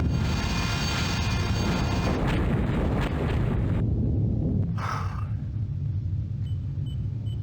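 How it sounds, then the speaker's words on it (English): A torpedo self-destructs in a submarine game, a loud, deep underwater rumbling blast that fills the opening seconds, then cuts to a low, muffled roar that lingers and slowly settles. "Torpedo self-destruct, sir."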